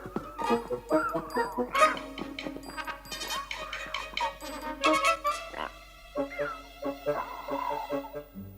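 Chicken clucking and squawking in a lively, uneven run of calls, fairly close and loud, with brief pauses between bursts.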